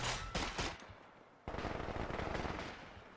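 Light machine gun fire in a strategy video game crackles in rapid bursts, a short opening burst then a longer sustained stream of rounds at moderate distance.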